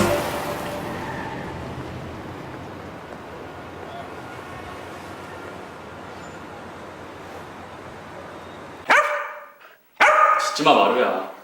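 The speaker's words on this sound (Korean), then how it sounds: "짖지마" A dog barks sharply in a few close bursts near the end of an indoor scene from a Korean crime drama, following a stretch of dense background music and ambience.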